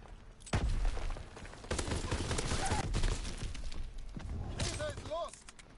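Gunfire bursts and a grenade blast in a Call of Duty: WWII multiplayer match, heavy low thumps followed by clattering shots and debris, with shouted voices in the mix.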